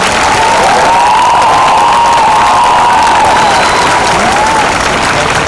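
A large crowd at a school annual sports day gives a long, loud round of applause, dense continuous clapping mixed with some cheering that stays steady throughout.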